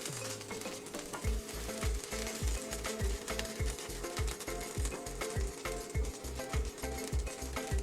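Samyang Buldak omelette cooking in a pan, with steady mechanical ticking and stirring-like clatter over a continuous sizzle, moderately loud and close, with no voices.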